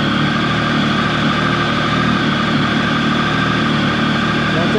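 Triumph 1050 motorcycle engine holding a steady high idle after a cold start, a loud, continuous even drone with a low rumble and no change in pitch throughout.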